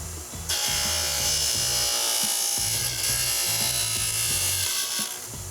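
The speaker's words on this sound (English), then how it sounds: "I'm going to turn this, rotate it through the saw so that I don't damage any of the fibers of the golf shaft" A saw cutting through a graphite golf shaft for a TaylorMade Stealth 2 Plus driver while the shaft is rotated, a loud close buzzing cut with a rhythmic rattling pulse, steady throughout before easing off at the end.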